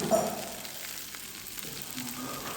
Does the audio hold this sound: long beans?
yes